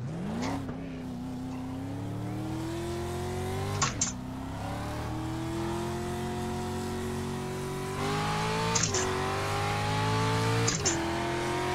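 Simulated street stock car engine in iRacing on a tire warm-up lap at Southern National Motorsports Park, a steady droning roar that climbs gradually in pitch, with a few brief gear-shift dips and clicks, heard alone.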